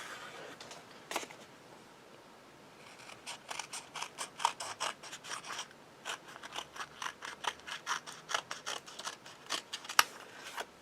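Scissors snipping along the sides of a handmade holiday shaker card, a quick run of close, crisp cuts in an irregular rhythm with no talking.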